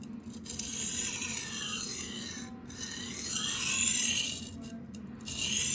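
A knife blade is stroked across a 400 grit sharpening stone, a steady, close, gritty rasp with long back-and-forth strokes and brief gaps, fairly quiet and with no talking.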